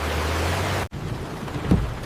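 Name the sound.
heavy rain and thunder sound effect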